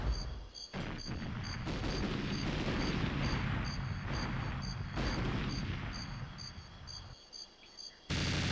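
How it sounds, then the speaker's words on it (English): Grenade launcher fire in the video game GoldenEye 007, heavy booming blasts rolling together into a loud, continuous explosive rumble with brief breaks, accompanied by game music tones. "Unload with a grenade launcher."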